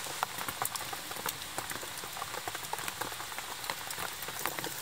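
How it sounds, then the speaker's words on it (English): Heavy rain pours down steadily on a camp with a fire, a dense crackling patter of drops striking nearby surfaces, with no voices. "The rain is really loud. It makes a lot of sound."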